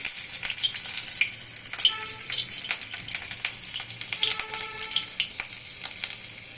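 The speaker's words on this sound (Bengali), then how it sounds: "কড়াইতে আমি একটা কাঁচা লঙ্কার টুকরো, চেরা কাঁচা লঙ্কার টুকরো দিয়ে দিচ্ছি" Steady crackling sizzle of a slit green chili frying in hot oil in a wok, with scattered pops and a few faint clinks, no voices.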